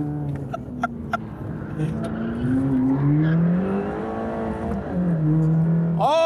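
A Mercedes-AMG GT Black Series engine revs hard on a fast lap, its pitch rising and falling steadily through gear changes, loud and close with a brief squeal near the end.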